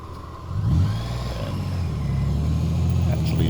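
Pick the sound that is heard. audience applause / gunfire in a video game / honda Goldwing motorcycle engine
honda Goldwing motorcycle engine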